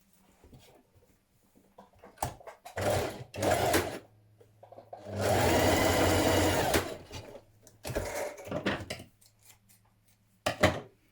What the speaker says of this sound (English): we're going to stitch these points together here